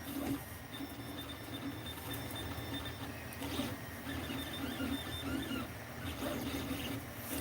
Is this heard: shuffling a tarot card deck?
no